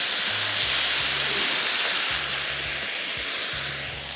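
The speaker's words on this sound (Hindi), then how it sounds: "तेज़ आंच पे फ्राई करना है" Minced meat frying in a pan on high heat, a loud steady hiss and sizzle that runs through the whole stretch, with a low intermittent hum pulsing underneath.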